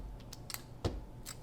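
Quilt fabric trimmed on a trimming board, a few short crisp cutting snips spaced apart, with one firmer thud-like cut near the middle; close and fairly quiet, no talk.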